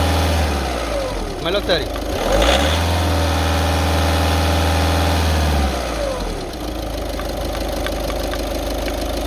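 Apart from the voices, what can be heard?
Volkswagen Vento diesel car engine revving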